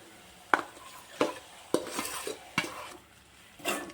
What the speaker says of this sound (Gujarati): ડુંગળી પાકી ગઈ છે તો આપણે હવે એમાં ટમેટું નાખી દઈએ